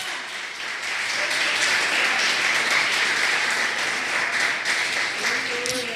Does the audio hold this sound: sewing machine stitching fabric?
no